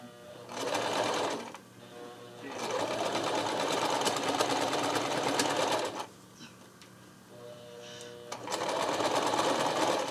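A sewing machine stitches fabric for a mermaid skirt band, a loud, steady close-up whirring that runs in long bursts with brief slower pauses between them.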